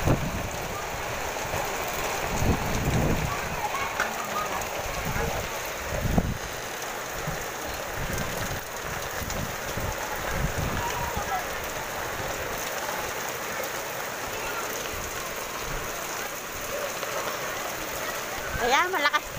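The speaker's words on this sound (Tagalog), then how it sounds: "Lakas ng ulan." Heavy rain pours down in a steady hiss across the whole stretch, with occasional thumps and faint voices underneath.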